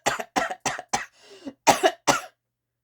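A reader imitates a series of dry, hacking coughs, five sharp bursts with a softer wheezy throat sound in the middle, close and clear with no other sound.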